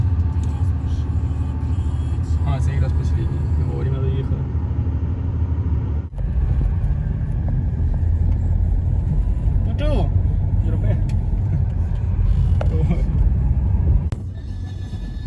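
Steady low engine rumble and road noise from inside a car travelling a highway toward Khmelnytskyi, continuous throughout with a brief dip midway, while people talk over it.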